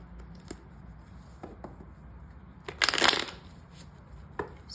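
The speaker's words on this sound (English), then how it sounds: "I'm going to shuffle again" Tarot cards riffled in a shuffle, a brief dense burst of crisp papery flutter in the middle with a few soft taps and card snaps around it, close and fairly quiet, no talking.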